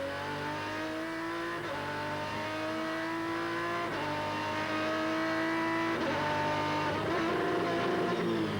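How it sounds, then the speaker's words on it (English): A high-pitched V10 GT race car engine wails steadily from on board during an FIA GT race, revving up through gears with brief shifts, loud and continuous with no talking. "listen to the much more waffly exhaust note of the V10"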